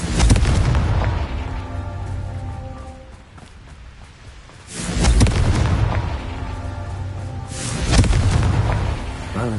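Confringo explosive spell blasts in Hogwarts Legacy on PS5, three loud booming bursts spaced a few seconds apart, each with a heavy low rumble and crackling debris tail over steady game ambience.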